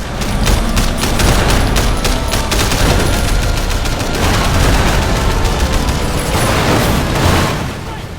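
Explosions and gunfire erupt in the open-world action game Sleeping Dogs, as motorcycles blow up amid rapid, overlapping shots and heavy booms, loud and continuous for several seconds before easing slightly at the end.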